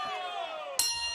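A boxing round-end bell in a Pavel Voronin versus Andrei Stoica bout, ringing out loud with a long ringing tone that is then cut by a sharp second strike near the end, over faint crowd noise.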